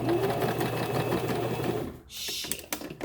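A sewing machine stitches a wig, running in a steady, close whir for about two seconds before stopping, followed by a few scattered clicks and rustles.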